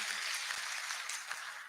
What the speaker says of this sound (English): I want to clap for all of us